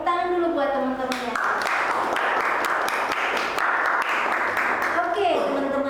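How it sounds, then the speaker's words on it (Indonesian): A class of students claps for their classmates after a presentation, a dense burst of hand claps in a classroom filling most of the stretch, with a teacher's voice talking before and after. "tepuk tangan dulu buat teman-temannya"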